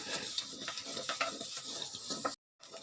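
Flaxseeds dry-roasting in a pan, stirred so the seeds scrape and rustle in a steady crackling hiss with a few sharper clicks, heard alone up close before a brief cutout near the end.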